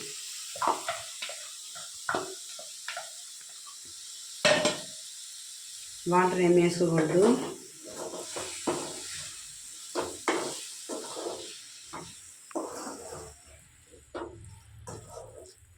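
Prawns sizzle as they fry in a pan over a low flame and are stirred now and then, a moderate crackle running under a person talking throughout.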